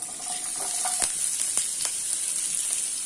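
Onion added to hot oil with chana dal and fennel for a banana flower egg stir-fry, giving a steady faint hiss of frying with a few sharp crackles and light utensil taps.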